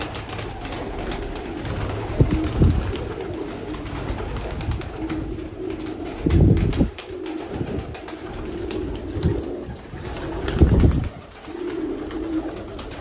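Pigeons coo repeatedly in low, throaty bursts, fairly close, over a steady background hum with no voices.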